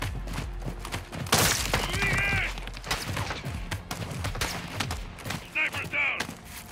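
Sniper gunfire in Call of Duty Modern Warfare 2, sharp cracks scattered among a busy battle mix with shouted voices, a loud report near the start and clattering impacts following.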